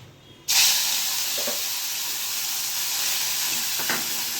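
Asafoetida and garlic dropped into hot oil for a Gujarati potato dish burst into a loud, steady sizzle that starts abruptly and keeps hissing, with a couple of faint clinks in the background.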